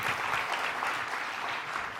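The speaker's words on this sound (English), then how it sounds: "Little round of applause for this guy." Brief audience applause at a motivational talk, a dense, even patter of many hands clapping at moderate volume for the whole moment.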